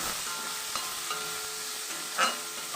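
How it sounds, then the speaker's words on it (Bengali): Tomato softening in a frying pan with turmeric and salt, a steady close sizzle broken by light scraping stirs and a brief louder clatter near the end, no talking. "এবার এটাকে আমি একটু মিক্স করে টমেটোটাকে নরম করে নেব"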